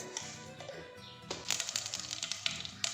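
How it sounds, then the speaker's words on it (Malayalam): Mustard seeds crackle and pop in hot coconut oil in a pan, with rapid, irregular small snaps that grow denser, heard close and fairly quiet. "കടുക് പൊട്ടാൻ തുടങ്ങി"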